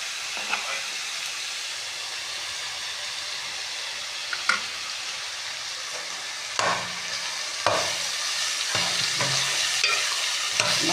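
Mutton pieces being stirred in ghee in a kadai, with a continuous loud sizzle and hiss broken by scraping stir strokes at irregular intervals, close up.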